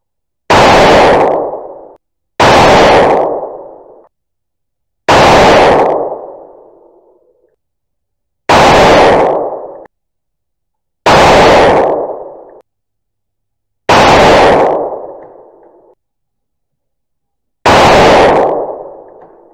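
Seven loud rifle shots fired through an EC muzzle brake with a tuner, each a sharp close blast with a decaying tail, spaced roughly two to three seconds apart in an even rhythm.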